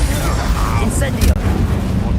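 An Incendio fire spell cast in the Hogwarts Legacy video game, a steady low roaring whoosh with a brief crackle partway through, heard under a voice.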